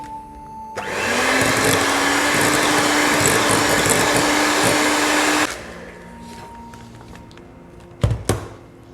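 A food processor whizzes a mint thins mixture, running as a loud steady whirring roar for about five seconds before cutting off, followed by a quieter lull and a couple of sharp knocks near the end.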